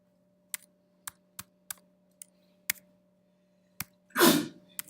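A single loud, breathy sneeze bursts out near the end, after a series of sharp isolated keyboard clicks at a computer during a statistics lesson.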